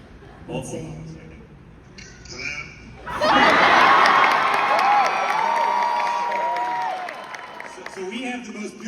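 Thousands of enthusiastic people at an Auburn University rally burst into loud cheering, whooping and shouting that holds for several seconds before easing, with voices talking before and after the roar.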